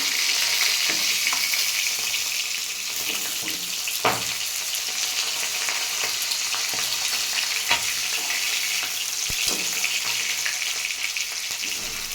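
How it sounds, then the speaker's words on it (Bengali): Fish pieces fry in hot oil in a pan for a Bengali fish curry, a loud, continuous sizzle with occasional sharp clicks and spatters throughout. "লাল লাল করে মাছ ভেজে নিয়েছি।"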